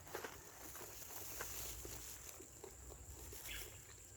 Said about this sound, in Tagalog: Grabe ang ulan, ano? Lakas.